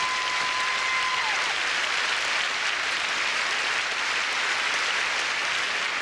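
An audience at the 1987 Miss Universe pageant applauds, a steady, even wash of clapping that holds constant from start to finish with no voices over it.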